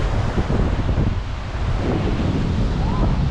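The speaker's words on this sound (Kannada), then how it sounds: "ಕಿರಿಮಂಜೇಶ್ವರದ ಕಡಲ ಕಿನಾರೆ" Wind roars over the microphone at Kirimanjeshwar beach while ocean waves churn and wash in the background in a constant, close, loud rush.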